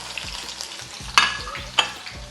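Chopped shallots dropped into hot oil with mustard seeds, frying with a soft, continuous sizzle, low rhythmic stirring thumps and two sharp crackling pops, with no voices.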